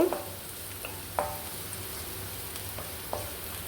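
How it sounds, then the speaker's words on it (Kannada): Garlic and curry leaves fry in a pan with a steady close sizzle, broken by a few sharp clinks and scrapes of a spoon stirring at intervals. "ಬೆಳ್ಳುಳ್ಳಿ ಇನ್ನೂ ಸ್ವಲ್ಪ ಫ್ರೈ ಆಗಬೇಕು"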